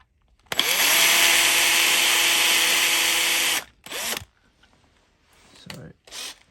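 A power drill whirs loudly through a plastic diecast model car part for about three seconds, followed by a short second burst and quieter handling noises.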